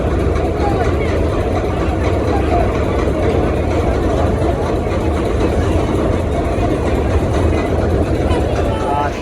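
The passenger launch Prince Awlad 10 reverses slowly, its heavy engine giving a loud, continuous low rumble and churn close by, with a voice talking over it.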